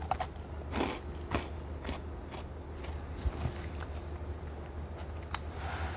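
Crunchy Kinder Crokao cocoa wafer with cream filling, bitten and chewed up close, a series of dry crackling crunches with no talking.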